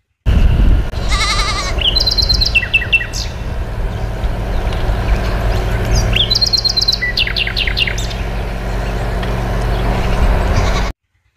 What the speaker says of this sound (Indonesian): yang ini kambing.